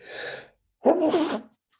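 A single close sneeze during a class, with a quick breathy intake followed by a sharp, loud burst, heard on its own without talk.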